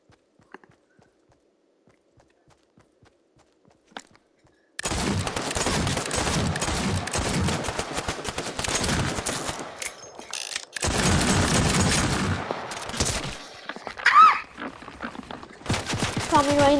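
Revolver fire in Fortnite: sharp, loud shots crack through a dense, busy stretch of game action, coming in uneven bursts with clattering impacts after a quiet opening.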